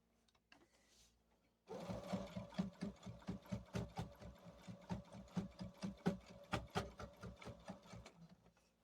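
A sewing machine stitches in the ditch along a quilt seam, starting after a brief quiet lead-in and then running in a steady, rapid mechanical chatter with regular clicking pulses, close and fairly quiet, with no talk.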